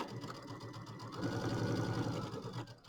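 A sewing machine stitches a quarter-inch seam on a fabric bench buddy project with pins in place, a close, steady mechanical whir and rapid needle chatter that speeds up midway and then slows.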